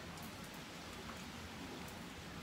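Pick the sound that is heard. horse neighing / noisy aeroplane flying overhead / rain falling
rain falling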